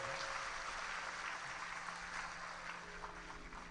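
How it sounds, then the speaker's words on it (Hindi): Audience applause at a Shiv Mahapuran religious discourse during Chaitra Navratri, a broad steady wash of clapping that stays fairly constant for several seconds with a faint tonal hum underneath. "जोरदार ताली बजाओ।"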